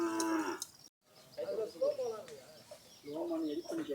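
Cattle on a farm kept for jallikattu bull sports, with several loud, close moos in a row, a brief silent gap between calls and faint bird cooing in the background.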